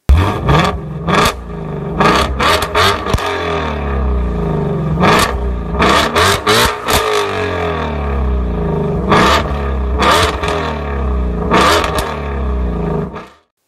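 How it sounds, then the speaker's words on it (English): A 2020 Ford Mustang GT350 engine is revved hard several times in close, loud blips of raspy exhaust, separated by a deep, steady idle rumble, before cutting off at the end. "The GT350 just sounds more raspy and more exotic, and it sounds European."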